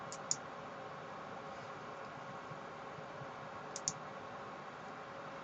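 Two light computer mouse clicks, each a quick double tick, close and faint over a steady hiss of room noise, no voices.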